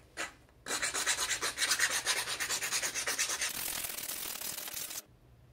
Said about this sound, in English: So grab your round file that you've set aside and start filing.